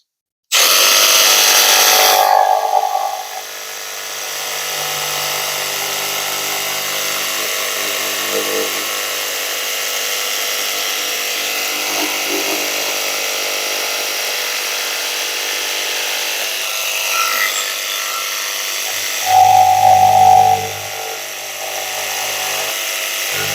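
A Milwaukee M12 FUEL 2545-20 cordless jigsaw cuts with zero orbital action at speed setting 5, a steady close buzzing whine that starts sharply, runs evenly for about twenty seconds with brief louder surges, then stops.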